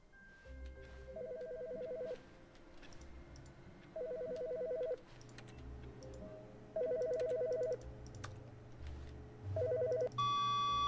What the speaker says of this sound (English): Oh, there's a phone ringing.